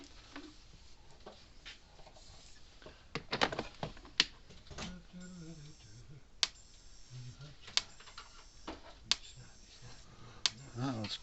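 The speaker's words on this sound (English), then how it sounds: "It's clicking right along" A Power Wizard electric fence charger ticks with sharp, isolated clicks spaced roughly every second or so, standing out over faint background noise and a brief murmur of voices.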